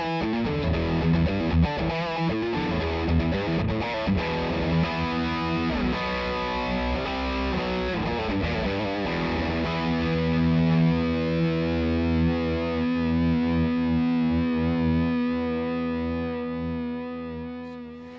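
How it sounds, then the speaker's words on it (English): A heavily distorted electric guitar plays continuously through a VOX MV50 amp on its high-gain rock setting, with thick, saturated tone and sustained chords, loud and alone, with effects coloring the sound. "rock is for classic high gain tones."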